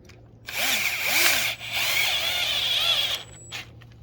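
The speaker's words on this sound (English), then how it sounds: "Then I take the screw with my power tool." A power drill drives a screw while installing an electronic pedal kit on a Sur-Ron electric bike, whirring steadily for about three seconds, pausing briefly midway, with pitch sweeps as the motor speeds up, close and loud.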